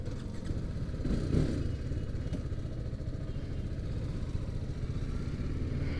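A motorcycle being ridden through Chennai, its engine droning steadily and close throughout with a brief swell near the start, no one talking.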